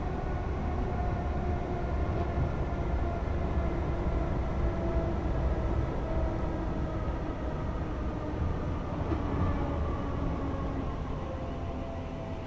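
A Pendolino train in the On Track Simulation game, on the West Coast Main Line, gives a steady, loud rumble of rolling wheels and rushing air that carries on without a break and without talk.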